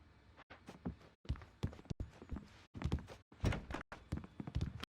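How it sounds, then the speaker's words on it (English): A locked door being tried in the video game Alan Wake, heard as a run of heavy, close thuds and rattling knocks repeating in irregular bursts, with no talk. "The door was locked."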